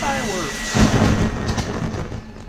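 Fireworks at a video game lunar festival, a deep booming burst followed by rumbling crackle and a fading roll, with a voice talking over it.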